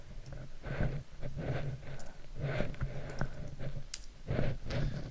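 Clicky keystrokes on a computer keyboard as a value is typed in, coming in short bursts of taps with brief pauses between, close and moderately quiet.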